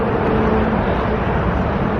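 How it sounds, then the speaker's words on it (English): Road traffic noise heard while cycling, a steady broadband rumble of passing vehicles and wind, continuous and fairly loud with no distinct individual events. "you'll have to put up with a little bit of traffic noise"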